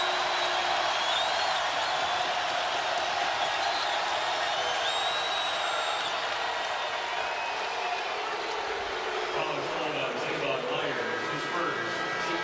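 A basketball arena crowd at a college game between Iowa State and West Virginia on senior night roars in a sustained, dense wall of cheering and whistles, with a commentator's voice running over it.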